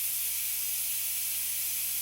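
A Ferrari 430 ABS pump runs during a brake bleed with a steady, even high hiss that holds the whole time and stays alone with no speech.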